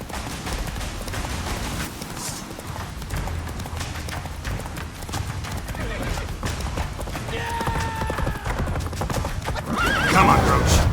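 Geralt's horse Roach gallops in The Witcher 3, steady clip-clop of hooves under a busy game soundscape with voices, and a loud neigh bursting out near the end.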